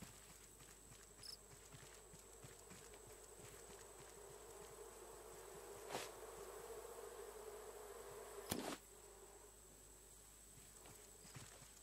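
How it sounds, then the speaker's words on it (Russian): Bees buzz in the video game Raft as a steady, faint insect drone under quiet ambient game sound, with a couple of brief louder bumps partway through. "Вон еще пчелы."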